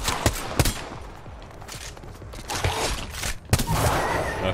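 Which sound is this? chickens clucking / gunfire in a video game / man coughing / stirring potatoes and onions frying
gunfire in a video game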